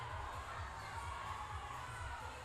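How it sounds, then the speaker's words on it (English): A crowd at the Burn Boot Camp Athlete Games fitness competition cheers and shouts in a dense, continuous wash of voices, steady and somewhat distant. "I love the crowd, the energy from the crowd."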